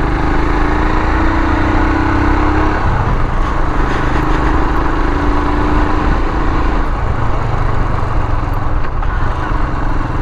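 A motorcycle rides through hilly terrain, its engine droning steadily and loudly throughout with a continuous low rumble, close to the listener and without talk.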